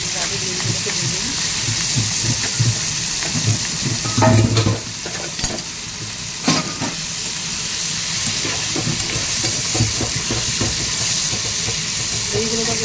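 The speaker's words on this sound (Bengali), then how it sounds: "এবার হচ্ছে যেই তরকারি গ্রেভি ব্রাউন করবো, তাদের গ্রেভিগুলোকে দিয়ে দিই" Curry gravy frying in a pan with potatoes and spices, loud constant sizzle close up, with occasional stirring clatter around the middle.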